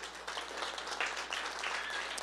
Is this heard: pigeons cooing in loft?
no